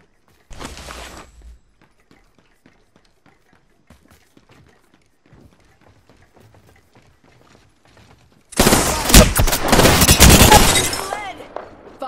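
Video game gunfire: a short crackling burst near the start, a long quiet stretch with faint scattered clicks, then a sustained loud barrage of rapid shots and breaking, shattering impacts close by.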